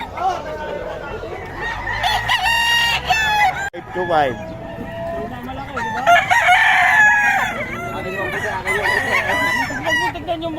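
Chickens and roosters at a poultry market in Bocaue crow loudly and cluck all around, with several overlapping crows close by and people talking amid the noise.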